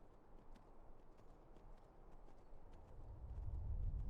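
Hooves of a horse clip-clop steadily in Skyrim's survival mode, a faint rhythmic walking gait that grows louder and heavier toward the end, with no voice.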